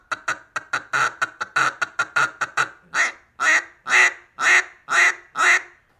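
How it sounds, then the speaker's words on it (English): A Duck Commander triple reed duck call gives a gravelly hen quack. It starts as a quick run of short, close quacks, then slows into six longer, drawn-out loud quacks, with no talking. "The triple thread is real gravelly on the low end,"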